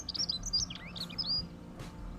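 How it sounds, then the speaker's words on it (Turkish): Several high, bright chirps and short warbling phrases of a mountain songbird and a warbler repeat irregularly on a Trabzon highland, with a steady low background rumble underneath. "Hem dağ bülbülü hem de çalı kamışçığının ötüşünü güzel bulurdum normalde."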